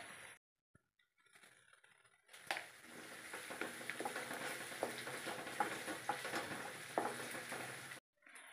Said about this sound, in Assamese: এতিয়া পিয়াজখিনি অকণ ৰঙচুৱা হোৱালৈকে ভাজি লৈছোঁ